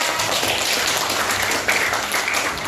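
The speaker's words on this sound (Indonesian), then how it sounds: "Oke, tepuk tangan." Students in a classroom clap together, a dense, steady patter of applause filling the room for a few seconds at close range.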